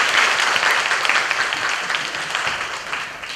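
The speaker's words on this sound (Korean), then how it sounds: "우리 학생들한테 박수 치면서 마무리하도록" Students clap loudly together at the close of a bio-health career mentoring session, a close, dense burst of applause that fades slightly over a few seconds.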